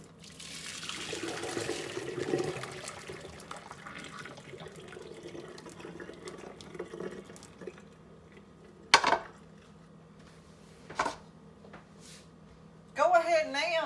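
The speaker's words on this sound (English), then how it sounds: "So we're going to drain this water off of them and let them cool." Hot water pours and splashes as boiled potatoes are drained in a kitchen sink, followed by faint quiet and a few sharp clanks of pots and utensils.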